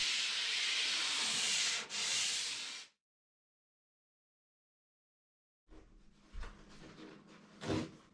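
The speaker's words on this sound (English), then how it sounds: "the board needs one last light sanding in 400 grit paper" 400-grit sandpaper rubs steadily across a foam paddleboard in a long scratchy stroke that briefly pauses. After a silent gap, quieter, uneven sanding resumes.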